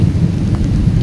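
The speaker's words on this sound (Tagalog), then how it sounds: "Pero kidlat talaga." Heavy rain beats steadily during a lightning storm, with low rumbling thunder running through it, loud and continuous throughout.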